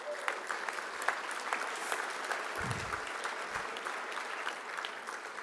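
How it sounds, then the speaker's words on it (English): An awards ceremony audience applauds steadily throughout, dense clapping at an even level with a couple of low thumps underneath. "Let's give them all a round of applause"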